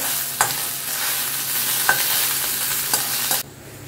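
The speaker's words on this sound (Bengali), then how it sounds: "মাছ ভাজা হয়ে গেল" Steady hissing sizzle of fish frying in a pan in a kitchen, with a few sharp scrapes and clacks of a utensil, then the sizzle drops away near the end.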